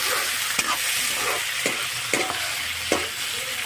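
Pieces of chicken meat and liver fry in a hot pan with a continuous loud sizzle. A spatula scrapes and stirs at a few irregular moments, and no one talks.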